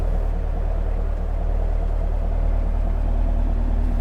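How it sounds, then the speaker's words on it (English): A 2018 Chevrolet Camaro SS with quad exhaust outlets idles with a steady, deep low burble, a continuous rumbling throb held at an even level throughout with no talking. "finishing off the look are quad exhaust outlets, piping out that satisfying burble."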